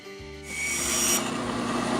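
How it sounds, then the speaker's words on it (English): A band saw whirs and then bites into wood, cutting the drawer out of a wooden band saw box in a short, close, steady rasping cut. "Now I'm going to cut the center out, the drawer part."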